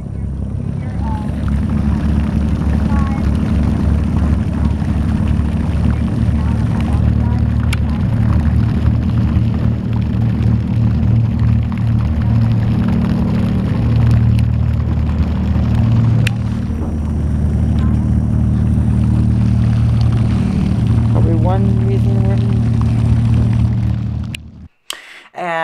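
Engine and thrusters of a whale watching boat rumble steadily and loudly throughout, a continuous low drone that cuts off abruptly near the end.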